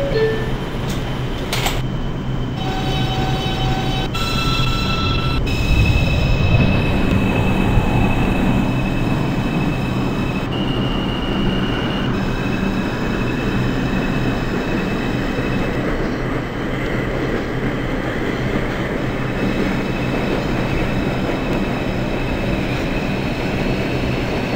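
A New York City subway 2 train runs in the openbve train simulator game, with a steady loud rumble of wheels and motors, faint high squeal and a few chime-like tones early on.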